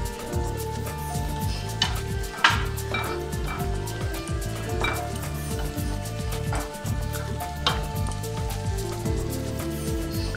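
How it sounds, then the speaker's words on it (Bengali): Spice masala for a cabbage kofta curry stir-fried in a pan, with steady scraping and clinking of a spoon against the metal in repeated strokes over a soft background sizzle, close and fairly loud. "দিয়ে ভালোভাবে কষিয়ে নিচ্ছি আবার মশলাটা।"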